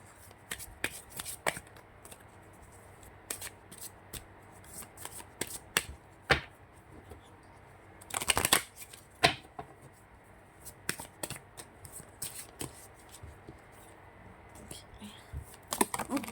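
Tarot cards shuffled by hand in repeated quick riffling bursts, close and crisp, with pauses and soft handling noises between them and some quiet talk.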